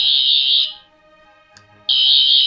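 A 14th Doctor sonic screwdriver toy from Doctor Who, set to its colour mode, gives off a loud, piercing high-pitched electronic whine that cuts out briefly and then starts again.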